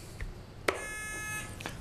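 Quiz bowl buzzer system being checked before a match: a single electronic buzz tone sounds after a sharp click and holds for about a second, faint against room noise.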